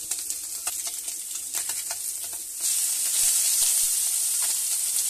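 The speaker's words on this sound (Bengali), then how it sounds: "তো আবার কড়াই দিয়ে ভেজে নিচ্ছি বাকি মাছগুলো" Small chuno puti fish fry in oil in a kadai, a steady bright sizzle with scattered spatters that swells into a louder, denser hiss partway through as more fish go in.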